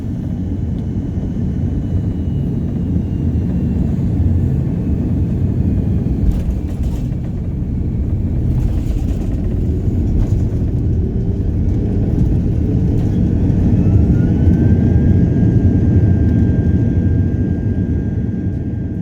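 An Airbus A330-300 descending into Dublin, heard from inside the cabin as a loud, steady low engine roar and rumble throughout, with a faint rising whine near the end and no talk.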